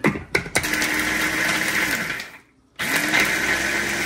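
A blender whirs loudly in short bursts while blending frozen broth, then runs steadily, cuts out briefly and starts again.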